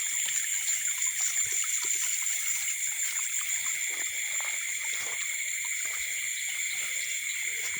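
Water flows steadily through a rural fishing spot where fish are being caught with a trap, a continuous trickling hiss with insects and frogs chirping along throughout, with no talking.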